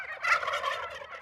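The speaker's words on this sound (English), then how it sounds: "Gobbles are made by male turkeys for the purpose of letting hens know where they are during the spring breeding season." Male wild turkey gobbling in spring breeding season, one rapid rattling gobble burst heard alone and fairly clear, at moderate distance.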